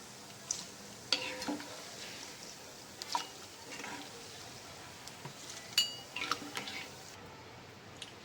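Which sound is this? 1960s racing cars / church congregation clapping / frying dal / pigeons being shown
frying dal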